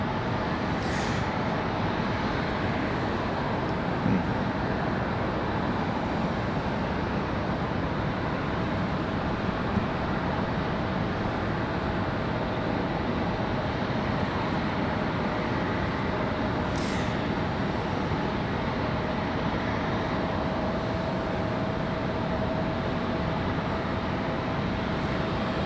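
American flight 1904 taking off from runway 23 right at Raleigh-Durham International sends out a sustained, loud, even jet roar that holds steady for the whole stretch.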